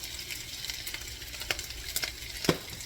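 Eggs scrambled on a hibachi griddle, a steady hiss of frying with scraping and tapping stirring strokes, including a sharper clack near the end, close and moderately quiet, no talking.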